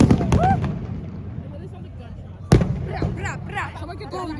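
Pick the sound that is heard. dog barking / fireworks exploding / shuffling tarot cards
fireworks exploding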